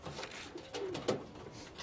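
A Malabari or Madras pigeon in a loft gives a soft, brief coo, faint and close against quiet background noise.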